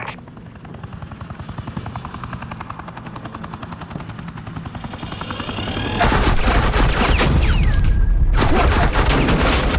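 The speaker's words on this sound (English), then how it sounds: "This is Agent Quinn, suppressing fire." Suppressing fire in the Batman Telltale video game, with a constant loud helicopter-like drone under rapid gunfire that intensifies into dense, heavy bursts over the second half.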